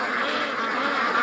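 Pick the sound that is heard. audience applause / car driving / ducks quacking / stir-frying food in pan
ducks quacking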